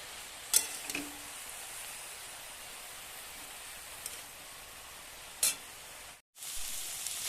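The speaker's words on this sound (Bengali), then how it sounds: "শাকটা দেওয়ার পরে দেখো এরকমভাবে কিছুটা সময় একটু রেখে নেড়ে ফিরে নিতে হবে।" Bottle gourd greens being stir-fried in mustard oil, a soft continuous sizzle with a few sharp scrapes of a spatula against the pan, a brief gap near the end, then the frying continues.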